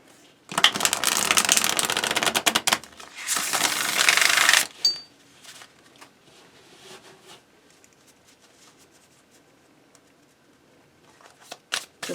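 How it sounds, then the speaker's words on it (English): A Moon Baby Tarot card deck is shuffled by hand, giving two bursts of quick riffling card flutter up close, followed by quieter occasional card handling and taps. "This one's in order, so I'm going to need to shuffle a lot."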